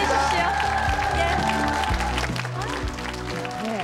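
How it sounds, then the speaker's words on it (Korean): A studio audience at a Korean KBS television talk show claps over background music, with a host's voice running alongside. "박수 주십시오"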